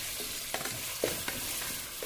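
Onions frying in a pan on a stove for ghee rice: a close, steady hiss of oil with a few soft scraping stirs spaced across the short stretch, no voices.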